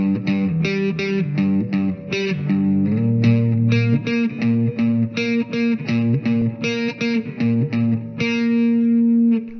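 Electric guitar with heavy distortion plays the My Sharona riff: a driving, rhythmic pattern of short repeated chord stabs and held notes, loud and steady throughout with no voice.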